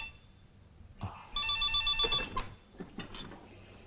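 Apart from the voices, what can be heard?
telephone ringing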